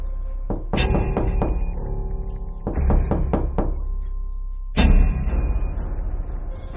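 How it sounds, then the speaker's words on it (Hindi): Knocking on a house door, heard as three separate groups of sharp thuds: a short burst, then a longer run of raps, then another loud burst, all close and set against a busy cartoon soundtrack with ringing tones. "इसके बाद बुल्ली पीटर के घर का दरवाजा खटखटाता है।"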